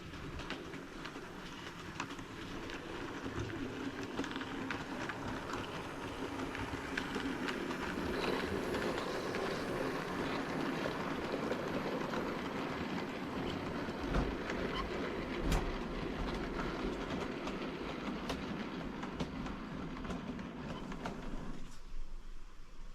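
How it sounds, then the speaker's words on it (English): Model railway trains, including a West Country steam locomotive and a goods train, rumble through a station layout with a steady running noise and light clicking of wheels over track, no talking. "Here it was scheduled to pass the West Country, which was to run fast through the station with the goods train."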